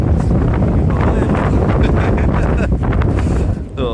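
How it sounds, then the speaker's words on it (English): Strong wind buffets the microphone outdoors at a wild camp, a loud continuous roaring rush with gusts throughout, easing slightly near the end. "It's getting really windy"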